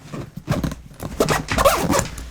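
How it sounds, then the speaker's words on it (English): The quick-access zipper on a Wandrd Stratus Photo 18L backpack is pulled open in close-up, a series of short, scratchy rasping pulls with slight catches, no speech. "When I'm opening that quick access zipper, I want something smooth"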